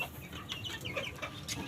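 Fayoumi chickens on a farm flock cluck and chatter continuously, several birds close by at a steady moderate level with no talking.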